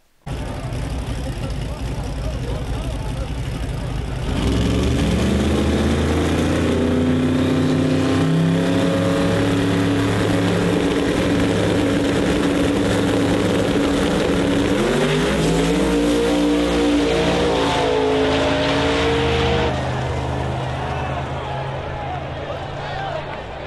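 Drag race cars roar past in a loud, sustained engine howl with rising and falling revs, two cars running side by side against each other, captured from a recording over a steady background.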